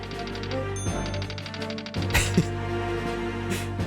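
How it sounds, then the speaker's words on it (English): Typewriter sound effect from the video game Ace Attorney Chronicles 2: a brisk run of evenly spaced mechanical keystrokes with a small bell-like ding, followed by a louder clunk and more clicking over a soft musical backdrop. "The typewriter sound is such a good touch."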